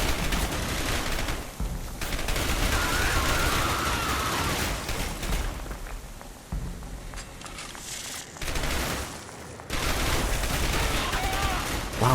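AK rifle fire in the video game Dark Sector, loud sustained bursts of automatic shots rattling across most of the span, with brief pauses between volleys and a voice talking faintly beneath.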